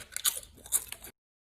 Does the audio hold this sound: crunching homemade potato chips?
yes